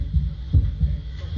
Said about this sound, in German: Hört man ja schon am Herzschlag.